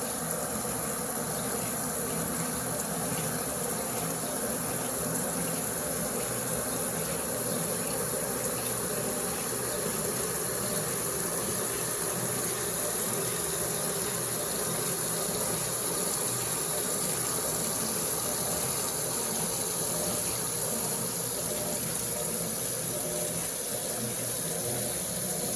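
Brastemp Eggo 1 kg mini washing machine (BWI01) filling with water for its second rinse, a steady, continuous rush of water pouring in at close range, unbroken for the whole stretch with no talking.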